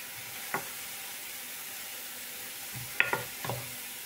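Onions fry and caramelize in a pan under a steady, soft sizzle, broken by a few brief utensil stirs and clicks near the start and toward the end, with no talking.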